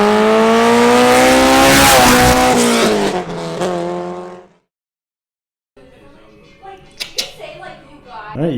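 A Ford Mustang GT on new wheels revs hard and accelerates, a loud roaring engine note rising through gears before cutting out, then quieter road sounds and a voice come in.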